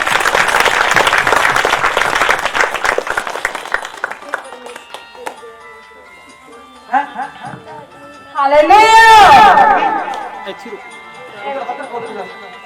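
A church congregation claps together in a dense burst of applause that fades after a few seconds, followed by someone speaking and a loud sung or shouted phrase.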